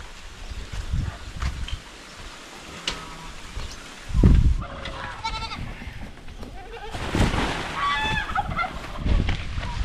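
Goats being fed dry leaves during a drought bleat a few times nearby, wavering cries rising out of rustling and shuffling, with a loud thump partway through.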